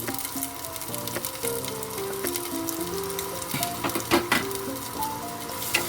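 Green chilli and garlic frying in hot oil in a pan: a steady, crackling sizzle with occasional pops, close up, over a faint melodic background tune.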